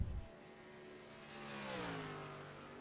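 A racing car engine in a driving game, revving and sweeping upward in pitch through a gear shift, steady and moderately loud with no talk.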